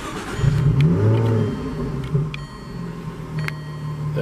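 A 2014 Jaguar F-Type S convertible in sport mode with its exhaust opened, idling with a deep rumble and a couple of throttle blips rising and falling early on, close and loud.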